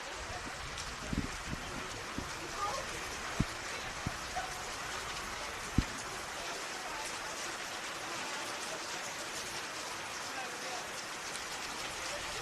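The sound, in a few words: rain falling on an outdoor football pitch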